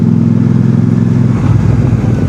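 A Royal Enfield Super Meteor 650 with an upgraded handlebar rides off, its engine a loud, close, steady rumble that shifts in tone partway through as it pulls away.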